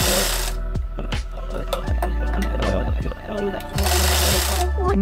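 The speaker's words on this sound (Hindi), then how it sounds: "इसको नीचे से ऐसे रख के ऊपर से हम एक और सिलाई लगा देंगे।" A sewing machine stitches a second seam to attach lace onto a trouser hem, its motor whirring in loud bursts with short pauses and clicks between runs while a person talks over it.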